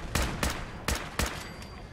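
Gunfire in the video game Fallout: four sharp, loud shots in an irregular rhythm, each a broad burst with a short tail.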